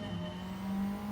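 A Honda Civic race car engine in Gran Turismo 7 at Tsukuba holds a steady, even drone with no talk, moderately loud and unbroken.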